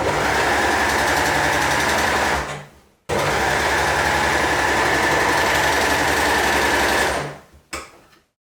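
An overlocker runs fast and loud, stitching and trimming a fabric edge with its blade in two continuous bursts, a high mechanical whirring chatter that stops, restarts, then winds down with a short final spurt.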